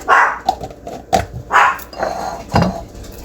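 Alert dog barking close by in a kitchen, several sharp woofs at an uneven pace with a low grumble between them.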